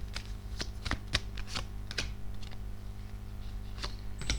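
Tarot cards handled and laid on a table, with a series of soft close slaps and sliding flicks at an uneven rhythm over a low steady hum.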